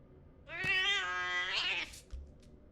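A cat meows once in a long, drawn-out wail in a Junji Ito survival horror video game, loud and close, followed by quieter rustling and a low thud.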